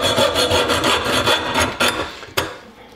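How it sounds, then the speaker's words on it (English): Rhythmic back-and-forth rasping of a hacksaw biting through wood, steady strokes close up, ending with a sharp knock as the cut finishes. "So the hacksaw."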